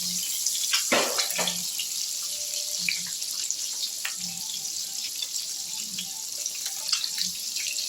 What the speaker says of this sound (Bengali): এগুলো আমি হালকা করে ফ্রাই করে নিচ্ছি।